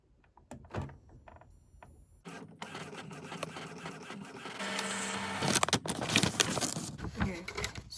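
An Epson ET-2750 inkjet printer runs a nozzle check, starting with scattered clicks and taps and then settling into continuous mechanical whirring and print-head shuttling at a moderate, close level.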